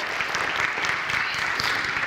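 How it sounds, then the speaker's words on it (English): A church congregation at a Lutheran traditional service claps for itself, a brief, even wash of applause at moderate level with no break. "Give yourselves a, a round of applause."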